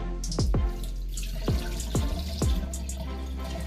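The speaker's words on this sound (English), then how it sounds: "we're about to wash our rice, and as we normally do, wash our rice 3 times, get rid of the excess starch" Rice is swished and rinsed in water in a kitchen sink to wash off the starch, with running water and several splashing, dripping plops over a steady watery wash, close by and alone.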